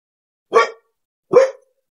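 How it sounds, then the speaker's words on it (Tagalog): A pet dog named Popoy gives two short, sharp barks about a second apart, close and loud, with silence around them. "Pasensya na po ha, sa asong maingay"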